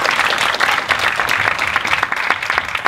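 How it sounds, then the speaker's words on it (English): Sustained applause from a conference audience at a design-track talk, dense and even clapping at full volume for several seconds with no voices on top. "So a big clap."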